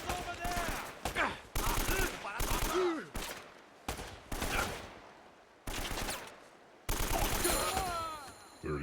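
Repeated bursts of automatic gunfire from the action video game Uncharted: Drake's Fortune crackle in a firefight, coming in choppy volleys with short gaps between them and faint game voices mixed in.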